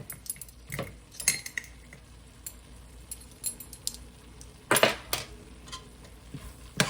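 A spoon stirs chili ingredients, crushed red pepper and sugar just added, in a home kitchen pot, with irregular scraping clinks and a couple of louder knocks against the side, close and fairly quiet.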